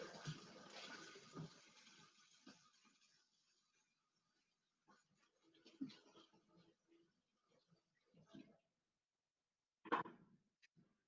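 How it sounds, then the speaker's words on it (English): Kitchen tap running as hands are washed, a brief rush of water at first that fades, followed by faint scattered splashes and clatter with a louder knock near the end. "Just gonna wash my hands."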